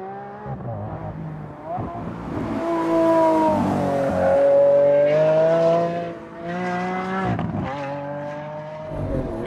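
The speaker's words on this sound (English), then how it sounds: "It's still that motor though. That V12 sounds so good." A Lamborghini Aventador S with its 740 hp V12 revs hard on a race track in Spain, the loud, rising engine note climbing through gear pulls, with brief lifts between them and a close, continuous roar.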